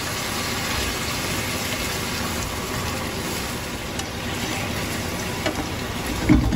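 Water hits a pan of salmon stir-fry and sizzles with a steady, dense hiss, a few faint clinks and a soft bump near the end.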